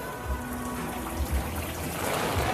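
Artificial rain falls at an exhibit commemorating a rainy Super Bowl performance, a soft continuous patter of drops with occasional heavier low splashes close by.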